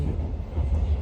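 A train travelling near Lucerne, Switzerland, produces a steady, loud low rumble with continuous rolling noise and no clear pauses.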